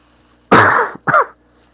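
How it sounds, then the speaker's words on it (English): A person coughs twice up close, a loud harsh cough followed by a shorter second one, in a quiet room with no talking. "Apologies for the cough"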